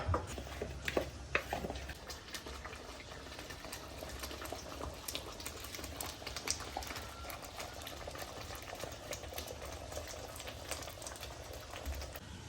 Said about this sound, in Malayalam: അപ്പോൾ നമ്മളെ കറി അവിടെ നിന്ന് തിളക്കുന്നുണ്ട്